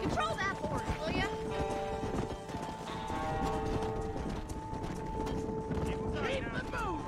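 A horse's hooves clip-clop steadily in Red Dead Redemption while cattle are herded on a ranch, mid-distance under game music, with a voice talking over them.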